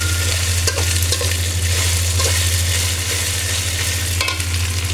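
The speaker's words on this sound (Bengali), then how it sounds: "সাত আট সেকেন্ডের মতো ভেজে নেব।" Oil and spices sizzle steadily in a pan for a fish-head muri ghonto made with katla and rui, a loud continuous frying hiss with faint stirring scrapes.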